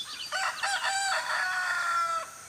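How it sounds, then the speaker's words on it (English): A rooster crows loudly and close by around seven o'clock in the morning, one long drawn-out cock-a-doodle-doo with a strained, wavering call, with no other sounds around it. "Rooster says it's breakfast time."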